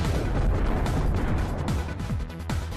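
Eyeball Cannon attack in Digimon World 2 plays as a continuous, noisy barrage with repeated low descending booms and pops throughout, loud and dense.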